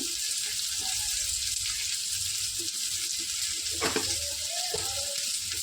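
Onion and garlic frying in a pan, a steady loud sizzle throughout with faint stirring scrapes and a brief clatter near the end.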